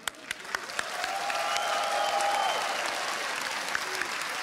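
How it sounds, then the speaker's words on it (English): An esports arena crowd at IEM 2015 Katowice, a Counter-Strike quarterfinal, applauds steadily, a dense wash of clapping that swells and holds, with a faint tone sliding across it. "So a big round of applause please for Keed."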